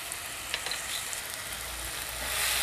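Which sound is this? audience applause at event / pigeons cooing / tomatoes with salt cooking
tomatoes with salt cooking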